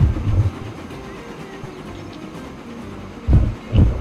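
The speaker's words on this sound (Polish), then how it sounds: "jak ładnie będzie jechał nowy pociąg, który może jechać 100 km na godzinę" Train in the video game Transport Fever running along the line, a steady low rumble with a few heavier rhythmic thumps of wheels over rail joints, fairly loud.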